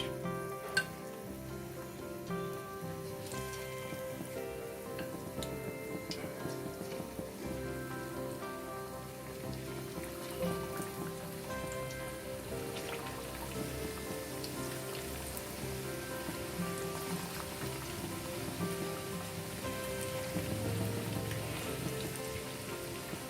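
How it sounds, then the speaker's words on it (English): Steady crackling sizzle of fish frying in hot oil, continuous fine popping at moderate level, with no talking. "So we're going to fry these until they are nice and golden brown."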